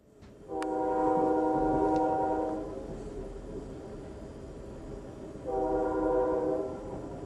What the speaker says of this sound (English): So there's the train cars that take the rice away.